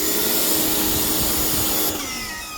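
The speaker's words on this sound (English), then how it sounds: "we're hit them quick with our pressure washer here" A pressure washer blasts the tires of a C3 Corvette with a loud, steady hissing spray close by, then drops off slightly near the end.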